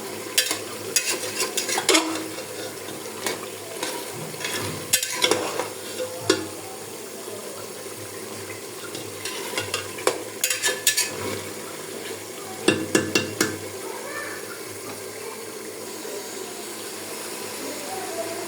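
Beef and spice masala frying down in oil in a pot with added potatoes, giving a steady soft sizzle broken by intermittent scraping and clanking of a spoon against the pan at close range.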